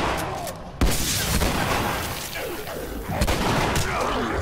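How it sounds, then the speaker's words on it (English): Gunfire in The Last of Us Remastered, a sharp loud blast followed by rolling booms and repeated shots, dense and continuous. "I'm just gonna try and blast everything I can."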